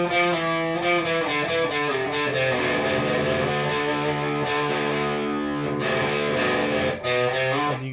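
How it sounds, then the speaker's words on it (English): Electric guitar plays a sweeping, vocal-like lick through a phaser or wah effect, dense harmonics bending and shifting in a continuous, loud, close phrase with no talking. "It's probably like a phaser of some sort, or maybe he's just going crazy on the wah"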